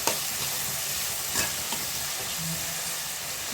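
Onions sautéing in a pan for a black-eyed pea tamarind curry, giving a steady close sizzle and frying hiss with a few soft stirring scrapes, no voices.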